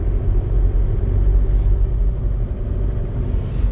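Car driving on a road in the Czech countryside, heard from inside as a steady loud low rumble of engine and tyres with no speech.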